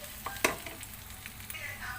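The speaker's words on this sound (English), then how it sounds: "we have to saute the vegetables like for 2 minutes" Vegetables for chicken manchurian sauteing in a pan, a soft steady sizzle with a few sharp clinks of a spoon stirring against the pan, fairly quiet and close, with no talking.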